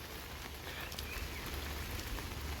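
Monsoon shower rain falls steadily in a Konkan village valley ringed by the Sahyadri hills, a soft, even patter of drops on leaves and surfaces, fairly distant and without voices.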